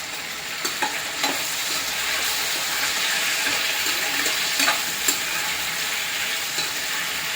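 Paneer and baby corn deep frying in oil for a restaurant-style manchurian, a dense steady bubbling sizzle held at moderate loudness for several seconds, with a few faint knocks and scrapes, no talking.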